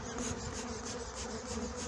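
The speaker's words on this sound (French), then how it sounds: "ça vole beaucoup, c'est des abeilles encore une fois qui ne sont pas les plus douces" Honey bees buzz thickly around an open beehive during a honey-super check before harvest, a dense steady drone with many insects close by and no talk.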